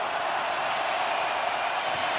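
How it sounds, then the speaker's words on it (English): An NFL football stadium crowd at a Texans vs Bills game gives off a dense, steady roar that holds for a couple of seconds, broad and distant, with no single voice standing out. "Crowd roaring."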